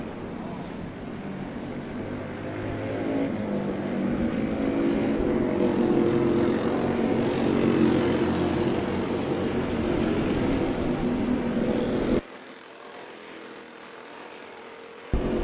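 Racing karts on an outdoor track with an oval sweeper and S-turns sweep past one after another, a rising, sustained engine drone that swells and holds, then drops abruptly to a quieter background rumble.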